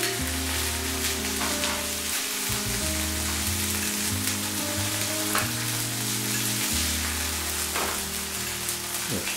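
Beef roulades browning in a pan for Silesian rolls give a steady, close sizzle and frying crackle throughout, with low tonal music playing underneath and no talking.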